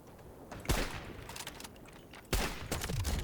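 Gunfire in a shooter video game, heard as two sharp bursts of shots with short tails, the first near the start and the second near the end, over a quiet background.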